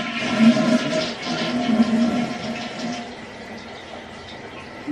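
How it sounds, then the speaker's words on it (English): A toilet flushes in a home bathroom, with a rushing swirl of water that gradually eases into the softer hiss of the tank refilling, heard nearby with no talking. "I'm going to flush the toilet in the bathroom."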